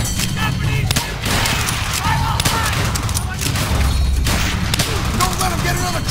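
M1 Garand rifle fire in Call of Duty World at War: repeated loud gunshots crack over continuous battlefield noise, with a brief lull partway through, and a player talks over it.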